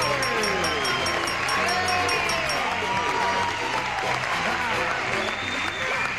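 A game show studio audience applauds steadily, a dense wash of clapping with some cheering and crowd noise that holds at an even level for the whole stretch.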